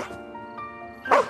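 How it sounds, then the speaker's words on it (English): An agitated family dog straining on its leash lets out a short yip and whimpering whine, then one sharp, close bark at a visiting man, all within about a second and a half. "It desperately barks at the guest, struggling to break free from its leash and lunging towards the man."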